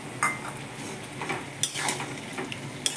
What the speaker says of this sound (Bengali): চলো এটাকে আবার হালকা হাতে আমরা একটু ভেজে নিই